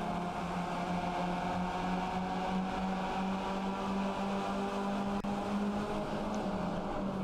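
Race car engines in the iRacing sim hold a steady, high, whining drone at moderate loudness, with a faint overlapping second engine and no talking.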